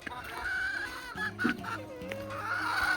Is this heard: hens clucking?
yes